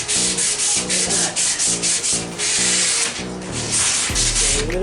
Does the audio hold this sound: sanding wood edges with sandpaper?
yes